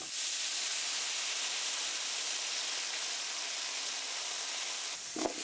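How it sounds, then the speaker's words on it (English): Broccoli and carrot steam in a pan with oil and a little water, giving a steady, even hiss that fills the whole stretch, ending with a faint clink near the close. "add the broccoli and carrot in first. Add a little water and let that steam down for 3 minutes"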